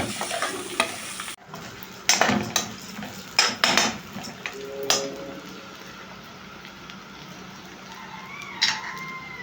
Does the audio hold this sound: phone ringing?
no